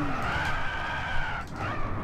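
Car tires skid and squeal through a drift in the Gran Turismo 6 racing game, a loud sustained screech over engine rumble that wavers in pitch.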